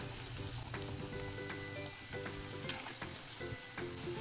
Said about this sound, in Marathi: दुसरी बॅच तळायला टाकूया